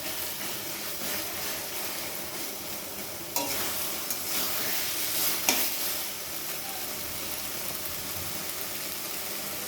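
Taro leaves (kochu shaak) seasoned with turmeric, salt and sugar sizzle in a pan, with a soft steady fry broken by a couple of sharp scraping stirs against the metal.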